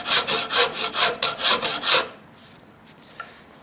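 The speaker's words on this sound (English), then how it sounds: "we're going to work on filing that down a little bit" A metal part of a flint-and-steel knife kit is clamped in a vise and worked with a file: about eight quick rasping strokes in a steady rhythm, close and loud, then quiet with one small knock.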